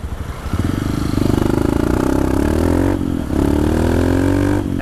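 A 2019 Honda Titan 160 motorcycle engine runs close by, a throbbing single-cylinder idle rising into revs, dipping briefly, then climbing again with a steady pulsing note.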